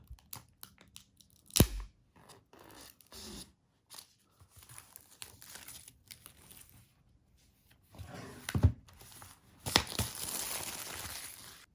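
Apple Watch Series 6 box, graphite stainless steel 44mm with Milanese loop, being opened by its pull tab: close crinkly tearing and rustling of paper and cardboard in short bursts with quiet gaps, a louder rip toward the end.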